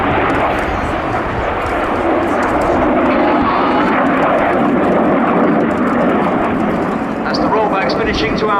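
Red Arrows jets roar overhead at the Cosford air show, a loud, continuous broadband engine rush that swells and holds across the whole span while a commentator's voice runs beneath.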